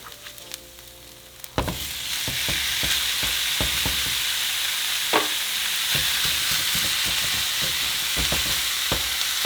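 Beef frying with onion in a pan, a loud sizzle bursting in as the meat lands, then continuous hissing with repeated scrapes and knocks of stirring, no talking.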